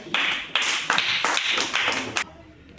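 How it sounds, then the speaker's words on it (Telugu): Children in a classroom clap together in a rhythmic group pattern, about six sharp, loud claps spaced evenly before stopping, close to the listener. "Very good, claps."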